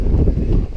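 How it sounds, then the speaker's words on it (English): Strong wind gusts outdoors in Melbourne, heard as a brief, loud, low rumbling buffet against the microphone with no voices. "so you can see the wind howling,"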